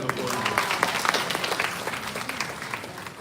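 An audience claps at a GD Goenka University event. The applause is dense, irregular and fairly loud, with crowd noise and voices mixed in, and it continues throughout.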